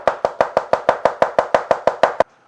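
A knife chops zucchini quickly on a cutting board, about a dozen sharp, evenly spaced knocks close up, then stops.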